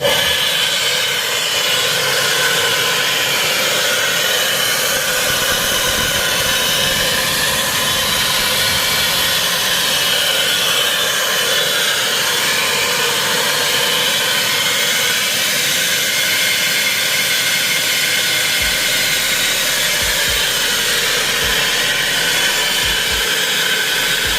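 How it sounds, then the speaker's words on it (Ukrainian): Flow bench pump blowing air through the exhaust port of a stock Dodge Viper SRT-10 8.3-litre cylinder head, a constant loud rushing hiss like a jet or hair dryer, steady and unbroken, close by with no talking. "Включаємо насос."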